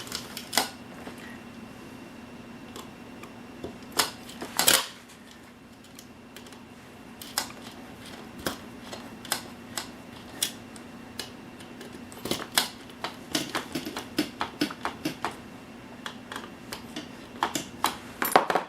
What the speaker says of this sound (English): Since it's screwing into plastic, we don't need any Loctite.